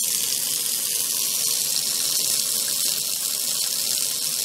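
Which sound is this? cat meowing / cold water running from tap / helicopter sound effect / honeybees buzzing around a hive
cold water running from tap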